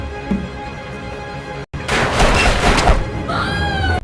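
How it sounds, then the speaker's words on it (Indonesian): Gunfire during a film shootout: after a brief silent cut, a dense burst of loud, booming shots and crashing impacts fills about two seconds, followed by a ringing tonal sound. "Dan terjadi tembak-tembakan di sana."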